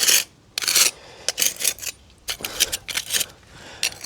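A metal scraper grates weeds out from between driveway blocks in short, harsh bursts of scratching, close and fairly loud, separated by brief pauses, with no talking.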